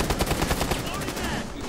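Rapid automatic gunfire from Rainbow Six Siege, a dense, loud burst of continuous shots filling the moment with little pause.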